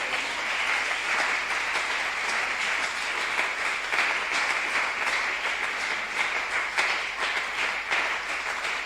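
A church audience applauds continuously to acclaim the Savior, a dense, steady wash of clapping held throughout with no voices standing out.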